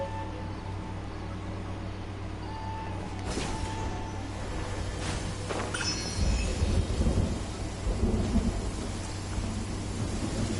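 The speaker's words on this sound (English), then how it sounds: "Oh my god, it actually rains in this thing!" Steady rain falls in Genshin Impact while thunder cracks and then rumbles heavily at mid-distance, with the downpour hissing continuously underneath and no voices.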